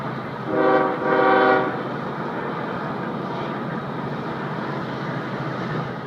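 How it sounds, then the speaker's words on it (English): A loud train horn blasts twice in short succession over the low, continuous rumble of a nearby train emerging from a tunnel at Harpers Ferry, West Virginia. "Sounds like another train's about ready to come out of the tunnel."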